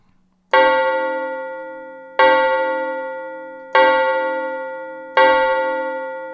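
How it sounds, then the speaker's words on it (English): Four separate tolls of a synthesized iron bell from the Quilcom B 2 Belly plugin, each a loud bright strike with a long ringing decay, evenly spaced and heard alone. "If you like the sound of the tolling of the iron bell, this one's for you"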